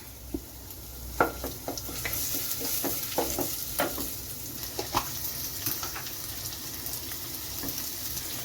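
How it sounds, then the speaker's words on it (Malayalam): Ginger, onion and green chilies sauté in oil in a pan, a steady close sizzle broken by repeated scrapes and knocks of a spoon stirring the pan, with no talk. "സെയിം പാത്രത്തിൽ നമുക്ക് ലേശം എണ്ണ കൂടി ഒഴിച്ചു കൊടുക്കാം. നമ്മൾ ഒരു ചെറിയ കഷ്ണം ഇഞ്ചി എടുത്തിട്ടുണ്ട്, ഒരു സവോളയും 2 പച്ചമുളകും എടുത്തിട്ടുണ്ട്. നമുക്കിനി ഇതൊന്ന് വഴറ്റിയെടുക്കണം."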